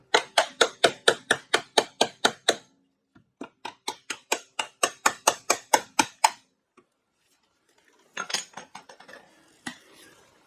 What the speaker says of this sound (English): Now, if I can hammer these in there with them and have them stay there.